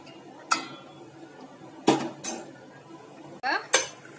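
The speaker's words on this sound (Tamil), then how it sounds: "நல்லா கிளறி விட்டுக்கலாம்." A spoon scrapes and clinks against a metal pot of thick jaggery payasam made with pasta, four sharp knocks spaced irregularly over quiet stirring, close and clear.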